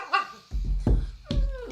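A person imitates a dog, giving three or four short, sharp yapping barks in quick succession, close and fairly loud, with brief pauses between them.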